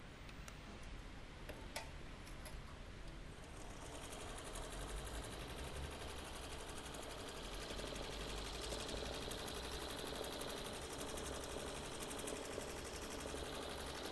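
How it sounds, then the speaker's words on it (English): A cap embroidery machine runs at a moderate speed, giving a dense, even mechanical ticking and whirring that holds steady for the whole stretch after a few clicks at startup, with no talking. "we can press start button and the machine will work automatically"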